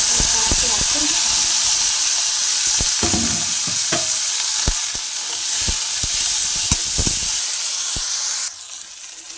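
Green chillies and tomatoes fry in a pan with a loud close sizzle and hiss, punctuated by sharp clinks and scrapes of stirring, with some background noise.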